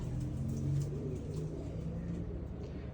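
Pigeons coo softly and steadily in a low, throaty rhythm, with faint chirps in the background.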